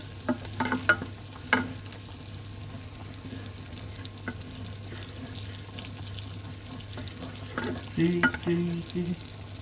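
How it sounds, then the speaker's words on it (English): Butter melting and being stirred in a pan on an induction hob set to medium, giving a soft low sizzle with intermittent scraping stir strokes, clusters of clatter near the start and end, no talking. "give this a good mix up, let it melt"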